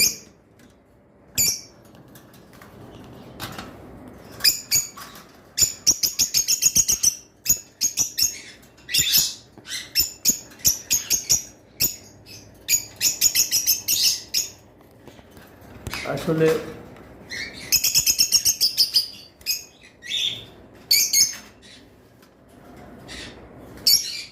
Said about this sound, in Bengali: এখানে একটা নন রিংয়ের ভায়োলেট রয়েছে